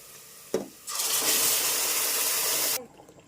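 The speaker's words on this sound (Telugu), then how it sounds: "ఇప్పుడు బాగా ఎర్రగడ్డలు వేగిపోయినాయి. ఇప్పుడు కూర అందులో వేసేద్దాం." Onions fry in a pan for a brinjal curry, a loud, steady sizzling hiss that starts abruptly after a brief clatter, holds for about two seconds, then cuts off sharply, with no talking.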